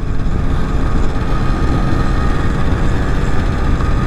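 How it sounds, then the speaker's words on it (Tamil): A Yamaha RX100 two-stroke motorcycle carrying two riders, heard as a loud, steady, rough engine roar with constant broadband noise throughout, close by. "ரெண்டு பேர் தம்பிங்க RX100 ஓட்டிட்டு போறாங்க"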